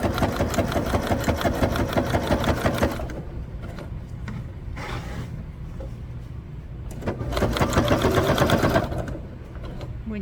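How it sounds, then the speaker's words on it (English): Close and loud, a sewing machine stitches a backpack seam using a reverse stitch. A sustained run is followed by a softer, slower stretch, then another quick burst near the end. "I'm going to stitch it all the way around."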